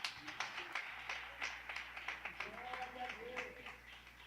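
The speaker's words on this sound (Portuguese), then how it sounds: "Dá uma salva de palmas para Jesus, irmão." A church congregation gives a round of applause, a steady stream of claps carried under talking and voices, moderately close and not very loud.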